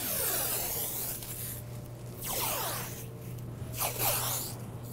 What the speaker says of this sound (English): now I'm going to lay on some blue painter's tape and just match up to those lines.